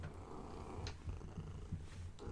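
Quiet, steady low purring from a house cat resting close by, a soft continuous rumble with faint background noise and no speech.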